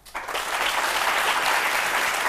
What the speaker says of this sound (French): J'aimerais qu'on applaudisse pour ça.